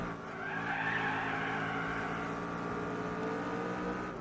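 Shelby Cobra tires squealing through wheel spin in the Gran Turismo 4 racing game, a loud, sustained screech that swells early and holds steady over the engine note, with no voices.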